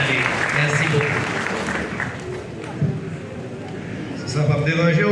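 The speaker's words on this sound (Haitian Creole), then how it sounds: "Applaudissez pour nous, s'il vous plaît" A graduation ceremony audience applauds with a steady wash of clapping, mixed with voices from the crowd and a speaker talking over it, swelling again near the end.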